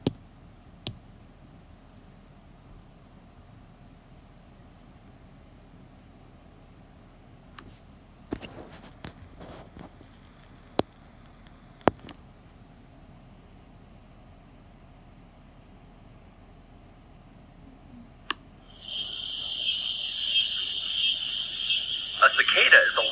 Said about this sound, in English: the male cicada makes a loud, shrill droning noise after dark by vibrating 2 membranes on its abdomen